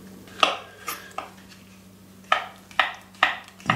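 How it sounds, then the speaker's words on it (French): A knife slicing through the stem and cap of a fresh porcini (cep) mushroom on a board in a kitchen, heard as a handful of short, crisp cuts close by, spaced irregularly, with quiet pauses between. "Alors la jambe du cèpe, on la coupe comme ça."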